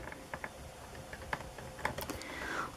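A paper trimmer slices through cardstock in a card-making session: a series of light, crisp clicks and taps, then a short rising scrape as the blade runs along the sheet, close and fairly quiet.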